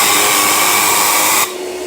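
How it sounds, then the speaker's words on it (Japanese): A Tornador air gun blasts dust from a car seat with a loud, sustained hissing rush that cuts off abruptly near the end, leaving a quieter vacuum-like drone behind. "噂のなトルネードガンな。"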